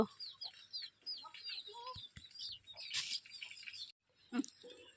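A hen clucks and chatters close by in a village setting, with a run of soft, irregular clucks and a few sharper calls, fairly quiet overall.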